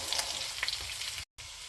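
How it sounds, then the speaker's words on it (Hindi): Meat for Kabuli pulao sizzles steadily in a pan over medium flame, a close, constant frying hiss with a few stirring ticks and a brief cut to silence. "हमने गोश्त को उस वक्त तक फ्राई करना है जब तक कि लाइट ब्राउन ना हो जाए"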